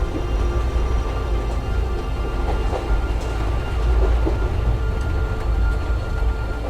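A storm with rain and rumbling thunder in the Syberia: The World Before adventure game, a steady loud low roar and rushing noise continuing throughout, without speech.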